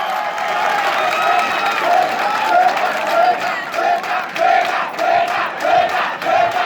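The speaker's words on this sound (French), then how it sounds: "acclamez ça pour vous-même" A comedy-show audience claps and cheers in a loud, rhythmic wave of applause, with chanting voices rising and falling in regular bursts through the crowd.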